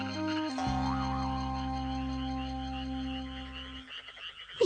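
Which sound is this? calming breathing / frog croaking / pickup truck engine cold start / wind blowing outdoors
frog croaking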